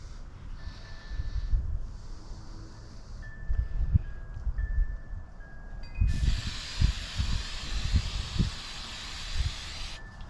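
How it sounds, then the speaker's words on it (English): Hairspray from an aerosol can is sprayed onto a model tree for an O scale model railroad, heard as several short close hissing bursts followed by one long steady spray, with faint handling noise between. "Just hairspray."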